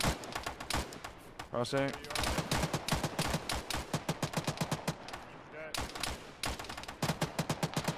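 Rapid bursts of heavy .50 cal machine gun fire in the military shooter Arma rattle steadily throughout, with short pauses, as players talk over the shooting.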